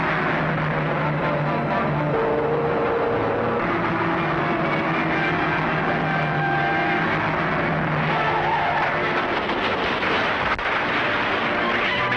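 A 1940s car drives hard and close, engine roaring steadily with tire skids and road noise throughout, in a chase to force another car off the road.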